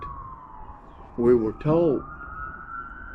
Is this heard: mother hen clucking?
no